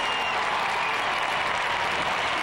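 Steady, dense applause from an arena crowd at a 2007 NCAA women's gymnastics meet between Utah and Georgia, a continuous wash of clapping held at an even level throughout.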